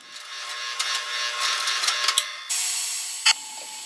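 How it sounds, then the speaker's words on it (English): A hole is drilled and then chamfered while building a twin screw vise, giving a steady high whirring cut that shifts in pitch partway through, with a sharp click near the end. "A pilot hole is drilled, followed by a hole of the desired outside diameter, and then the edges are chamfered off."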